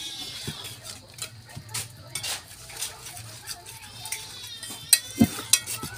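A utensil stirs and scrapes a thick batter with egg for kangkong chips in a bowl, giving close, rhythmic clinks and soft swishes with a few sharper knocks near the end.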